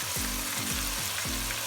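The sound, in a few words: yogurt, ginger garlic paste and pulao masala sizzling while frying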